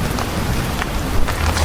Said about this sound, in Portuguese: Ai, Tiffany, já tá caindo a chuva na lona, tá fazendo aquele barulhinho.